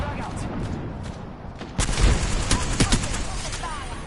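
Gunfire in an arena shooter video game: muffled distant shots early, then a burst of sharper, louder rapid shots and booms near the middle, continuing in scattered bursts.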